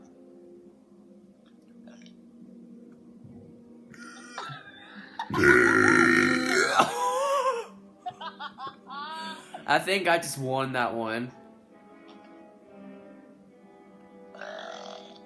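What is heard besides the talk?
burp in a burping contest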